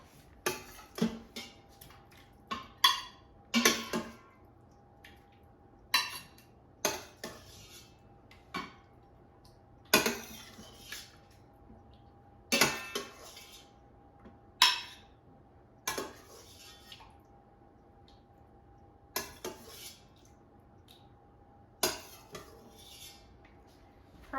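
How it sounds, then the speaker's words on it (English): Metal utensils clink and scrape against an Instant Pot as braised pork belly is lifted out, giving scattered sharp taps and clatters at an uneven rhythm, close and fairly quiet, with no talking. "Now let's take it out of the Instant Pot."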